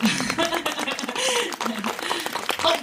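A crowd applauds a surprise guest at a film talk event, a dense, steady patter of many hands clapping close by that continues for a few seconds, with murmurs and a voice mixed in underneath.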